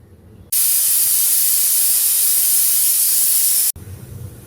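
A pressure cooker on a stove, cooking a vegetable kootu, lets out one loud, steady, hissing steam whistle lasting about three seconds, cutting off abruptly, with quieter kitchen noise before and after.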